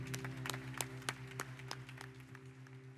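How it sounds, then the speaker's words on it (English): A crowd applauds the men's cross country team at an awards ceremony: steady, moderately loud clapping with sharper individual claps standing out, over a low constant hum. "Let's give one more round of applause for our men's cross country."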